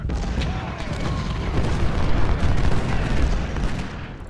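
Massed infantry musket volleys in the Civil War battle game Ultimate General: Civil War, a dense continuous roar of overlapping gunfire and booms rolling on without break, with no voices.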